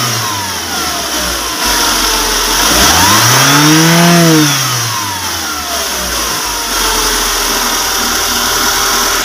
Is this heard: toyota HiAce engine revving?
yes